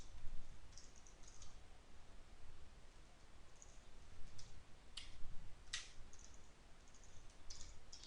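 Someone types Python code on a computer keyboard in a quiet room, with faint, scattered key clicks and occasional sharper taps over a low background hum, no talking.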